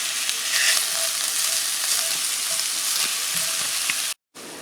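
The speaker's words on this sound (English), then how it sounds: "the sausage is pretty much cooked" Sausage fries in a soup pot, a dense, even crackling sizzle heard close and alone, cutting out briefly near the end.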